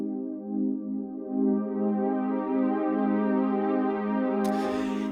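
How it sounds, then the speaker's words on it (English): Sustained synth pad from the Zebra software synth with its chorus modulation, a warm held chord that gently wavers and shimmers, heard alone before ending in a brief noisy burst. "So Zebra's modulation engine is preset to give us a chorus"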